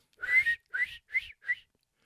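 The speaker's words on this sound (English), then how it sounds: "And do the little whistle." A person whistles a little tune in four short rising notes, close and clear, with pauses between them and no talk.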